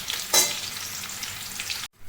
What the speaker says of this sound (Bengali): আলুগুলো ভেজে নিই, খুব হালকা হালকাভাবেই ভাজছি।